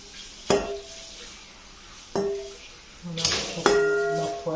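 A large frying pan clanks and rings with several metallic knocks and clinks at uneven intervals while spinach and cheese taco filling is prepared, the hits close and moderately loud over quiet kitchen noise.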